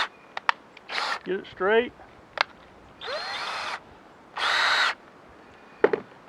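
Power drill fitted with a Phillips bit whirring in several short bursts, with rising and falling pitch as it drives screws into a wooden honeybee hive box, interspersed with clicks and handling noise and a brief spoken remark.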